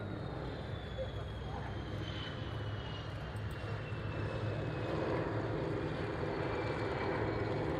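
An Avro Anson T21 aircraft makes a continuous, fairly faint engine drone with a broad rushing hiss that holds steady throughout.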